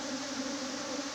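Africanized killer bees buzzing as a steady, faint, continuous drone with no breaks, heard alone without any talk.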